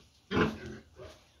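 A pig gives a single close, low grunt followed by a softer, shorter one, heard alone on a farm with quiet background.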